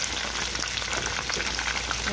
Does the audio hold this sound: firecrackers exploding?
no